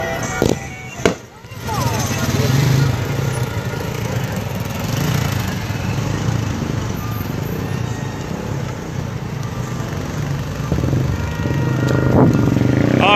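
Motorcycles ride at the head of a street convoy, their engines droning and rumbling steadily nearby for the whole stretch, rising toward the end, with a few sharp pops near the start.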